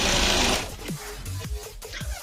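A sewing machine stitching the hook strip on a blouse runs as a steady buzzing whir for about half a second, then stops, followed by a few soft handling sounds and faint movement nearby.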